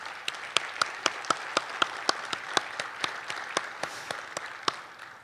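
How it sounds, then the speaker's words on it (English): Slow, evenly spaced claps over a light wash of applause, steady and moderately loud, fading at the end. "I would like to give them a round of applause"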